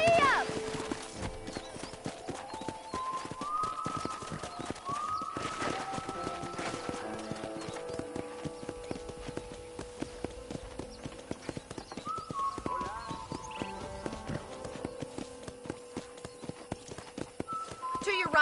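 Horse hooves clip-clopping at a steady trot in the Western video game Red Dead Redemption, close and continuous, with a brief whinny and game music running underneath.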